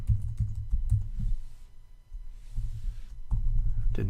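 A password is entered on a computer keyboard as a quick run of close, soft key clicks, a short pause, then a few more taps, with a low hum behind them.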